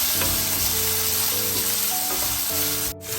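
Chopped onions hitting hot oil for a Sri Lankan beetroot curry, a strong close sizzle that holds steady, then a sharp clatter and brief dip near the end.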